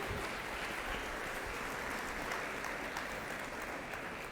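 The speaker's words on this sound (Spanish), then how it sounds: "Denle un aplauso a Jesús." A church congregation applauds in a dense, even wash of clapping, heard faintly and from a distance without a break.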